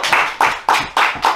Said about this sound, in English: Give you a round of applause for Mr. Destructive Jack Delta.